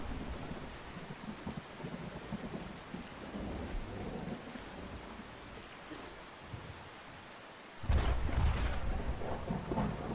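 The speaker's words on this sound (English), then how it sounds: "Really, they did an excellent job on the thunder." Thunderstorm ambience in the game Outbrk: steady heavy rain hiss with low rumbling thunder throughout, swelling into a louder, closer thunder crack and roll near the end.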